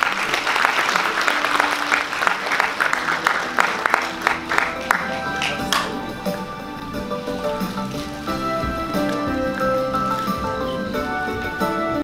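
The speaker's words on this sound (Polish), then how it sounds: "Brawa, wielkie brawa dla nich." An indoor crowd at a school sports awards gathering claps for the athletes, starting as dense applause that thins into scattered claps, while a voice speaks over the fading end.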